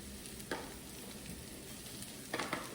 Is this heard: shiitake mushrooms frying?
yes